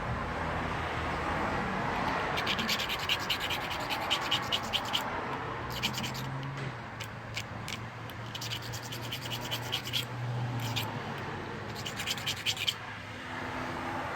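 A hand file is drawn over the burred end of 14 gauge battery bank wiring, several bursts of close rasping strokes in quick rhythmic runs with short pauses between them.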